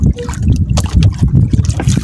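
Big waves slosh and splash steadily against a fishing boat's hull, with a constant rumble of wind and engine noise underneath.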